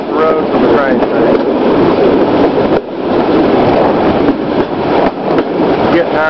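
A train rolls along a single track away from a rail yard toward a farm, its loud, steady rumble and rattle running throughout, with voices talking over it.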